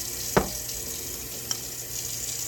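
Warm tap water pours steadily into glass canning jars packed with fresh green beans, a continuous hissing stream with a couple of small clinks and splashes.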